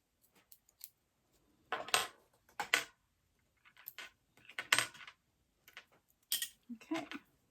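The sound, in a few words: scissors trimming fabric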